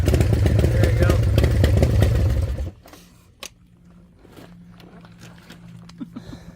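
A custom Harley motorcycle revs loudly and rides off after a gentle clutch release, the engine roar fading quickly into the distance, leaving quiet outdoor background with light footsteps and clatter.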